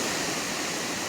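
Khandadhara waterfall roars with a dense, steady rush of water falling from a height, loud and continuous with no break.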